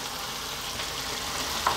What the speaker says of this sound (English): throw this pasta around in the sauce, get a nice kind of coverage of the sauce onto the pasta